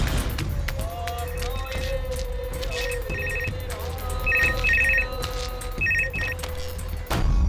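A telephone rings in a dubbed Hindi South Indian underworld action film, its bursts of electronic ringing repeating several times over a busy scene with background voices and a steady hum.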